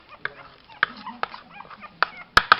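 Puppies being weaned from nursing onto food give scattered short whimpers and yips up close, sharpening into a few louder cries near the end, with a quiet voice in between.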